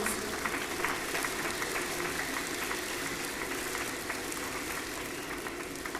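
Steady, even applause rises from the audience at an anniversary award ceremony, a continuous wash of many hands clapping at a distance.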